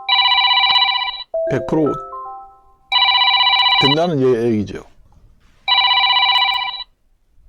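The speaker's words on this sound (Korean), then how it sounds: "전화가 왔으니 껐는데" Telephone ringing with an incoming call, three loud electronic ring bursts evenly spaced, with someone talking in the gaps between them.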